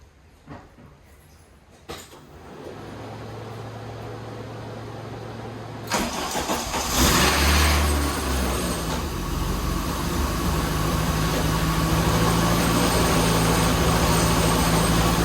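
A rebuilt 1986 Dodge Shelby Daytona engine cranks and catches after a couple of quiet clicks, then settles into a steady, loud, close idle that holds to the end without talk.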